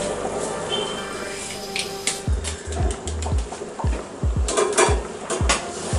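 Washed jeerakasala rice poured into a metal biryani pot, with a run of sharp clinks and scrapes of a utensil against the pot, close and fairly loud.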